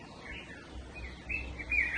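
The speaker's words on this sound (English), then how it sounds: "listening to the incredible birds in this garden" Several birds chirp and sing in a garden at an off-grid African homestead, their short, bright calls trickling in and out, growing a little louder near the end over a low outdoor rumble.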